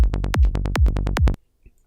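A psytrance bassline of rolling sixteenth-note bass hits locked to a punchy kick, a loud, tight synthetic pulse lasting just over a second before it cuts to silence.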